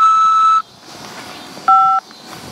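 Electronic tones on a prison phone call from a corrections facility: a long steady beep, a pause with faint line noise, then a second shorter two-tone beep, loud and close with no talking.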